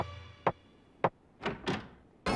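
In a cartoon, a locked door is forced open with a series of heavy thumps and thuds, spaced irregularly, with two closer together toward the end, each sharp and fairly close against quiet background.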